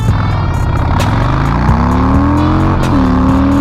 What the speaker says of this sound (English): now we're gonna do a 0 to 60 test from a dead stop